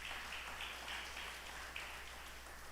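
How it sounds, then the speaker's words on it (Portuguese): A church congregation applauding, a steady patter of many hands clapping at a distance, faint and continuous with no voices over it. "por favor, aplauda Ele, em nome de Jesus."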